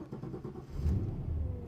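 An old car's engine cranks and catches, a mid-pitched motor settling into a steady, fairly loud running rumble after a brief uneven start.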